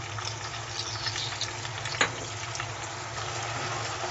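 Ginger garlic paste frying in hot oil for restaurant-style chicken tandoori masala, a steady close sizzle and crackle with a soft stir clink midway, no voices.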